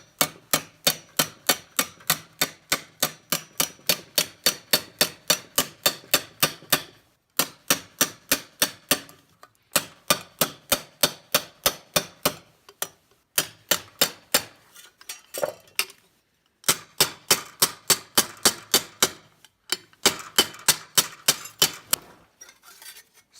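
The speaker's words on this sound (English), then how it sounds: "Okay, so now we're just going to hammer this bend line in." A hammer strikes sheet metal in rapid, even bursts while a bend line is formed for a 1990 Nissan 240SX rust repair panel, with sharp close metallic taps repeated in runs separated by short pauses.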